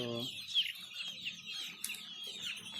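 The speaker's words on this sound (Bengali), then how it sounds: "আপনারা দেখতে পাচ্ছেন আমার এক হাজার টাইগার মুরগির বাচ্চাগুলো" Tiger-breed chicks in a batch of about a thousand give continuous high, thin cheeping. The chirps overlap steadily at moderate loudness with a faint low murmur underneath.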